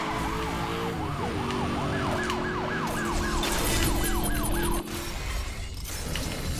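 Police sirens wail continuously in Need for Speed Hot Pursuit Remastered, several overlapping rising-and-falling tones over a steady engine roar during a pursuit race, loud and sustained with no talk.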